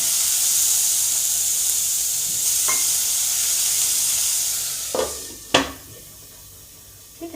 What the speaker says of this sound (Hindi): इसी पानी के छींटे की भाप से ये पकौड़ियाँ पक जाती हैं।